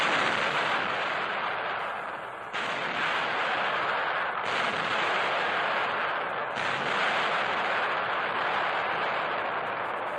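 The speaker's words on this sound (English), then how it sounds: "In the field, artillerymen test the powerful new 240-millimeter howitzers, some of the heaviest weapons in service." Heavy 240-millimeter Army howitzers firing from concealed field positions in 1943, a powerful continuous roar of blasts and rumbling on an old newsreel soundtrack with no distinct breaks, loud and dense throughout.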